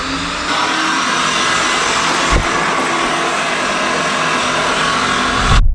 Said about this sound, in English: That way when we crank it over, it pumps the oil around without firing.